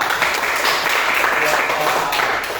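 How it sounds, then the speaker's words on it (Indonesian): Classroom of schoolchildren clapping together for a teacher, a steady dense patter of hands that holds evenly from start to finish, with voices mixed faintly underneath. "Tepuk tangan buat kita"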